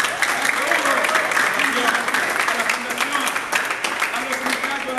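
Applause from the audience at a music school event, loud and continuous clapping from a close crowd with voices mixed in throughout.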